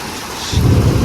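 A deep rumble of thunder rolls in partway through, over a steady hiss of rain.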